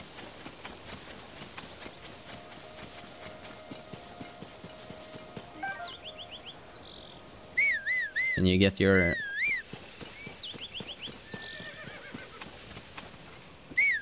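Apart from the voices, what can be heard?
horse neighing and hooves in Zelda Tears of the Kingdom video game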